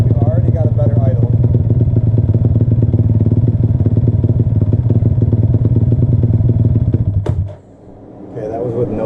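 A motorcycle engine idles close and loud with a steady, even throb, then cuts out abruptly near the end as a voice begins talking.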